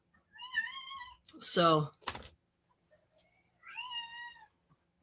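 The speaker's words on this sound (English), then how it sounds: "I hear a cat squeaking at me." A nearby cat meows clearly twice, the cries separated by a burst of clatter and a brief spoken word, with a sharp knock in between.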